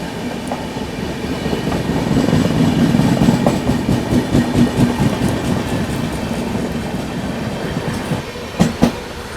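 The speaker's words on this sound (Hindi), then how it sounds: "Ajmer Sealdah superfast express. खैर काफ़ी धीमे गई।" The Ajmer Sealdah Superfast Express slowly overtakes at close range, its wheels clacking steadily over rail joints beneath a loud, continuous rumble that holds for the full stretch and ends with a pair of sharp knocks.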